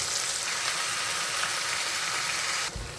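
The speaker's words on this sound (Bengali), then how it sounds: "মাংসগুলা আমি পানি না দিয়ে এইভাবে ভাজা ভাজা করে নেব দশ মিনিট" Beef pieces frying in hot oil with no water added, a dense, steady sizzle close by that holds evenly throughout and drops slightly near the end, with no talking.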